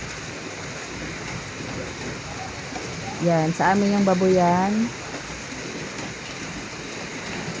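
Heavy rain pours steadily at a pig farm during flooding, a constant dense hiss on roofing and ground, while someone briefly speaks partway through.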